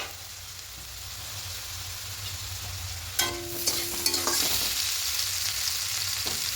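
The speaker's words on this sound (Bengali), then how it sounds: "এভাবে ঢাকা খোলা করে আলুটাকে হালকা করে ভেজে নেবো।" Potatoes fry in an oiled pan, a low steady sizzle that swells louder partway through as a lid is lifted with metallic clinks and scraping.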